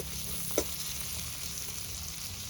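Chicken meat sizzles steadily in oil in a pan as it browns for a chicken and pointed gourd curry, a continuous broad hiss with one brief clink near the start, no voices.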